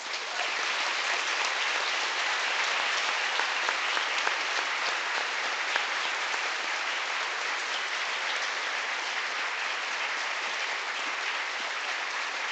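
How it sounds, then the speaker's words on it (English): Sustained audience applause at an education foundation breakfast event, a dense, even wash of many hands clapping that continues without a break for over twelve seconds. "Keep the applause coming."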